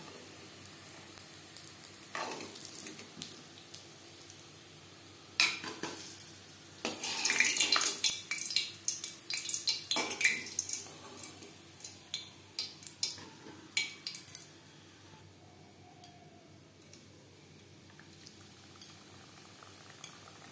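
Goja pastries fry in hot oil with a steady soft bubbling sizzle, joined by scattered metallic clinks of a utensil against the pan and occasional stirring sounds, fairly quiet and close.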